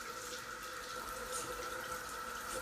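Running water pours steadily from a tap while a makeup sponge is washed with soap, a continuous moderate hiss without pauses or voices.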